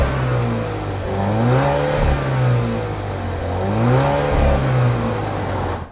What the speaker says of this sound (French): je vais vous faire écouter le moteur